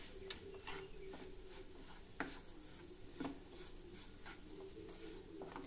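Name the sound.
stirring cooked dal mixture for Ganesh festival prasad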